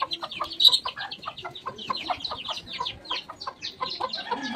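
Chickens at a grandmother's village home give a busy run of clucks and squawks, close and moderately loud, with scattered calls overlapping and no speech.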